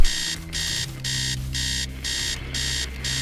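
An alarm clock in the Stories Untold video game blares in loud, regular electronic bursts, roughly six beeping pulses repeating about every half second and heard on their own.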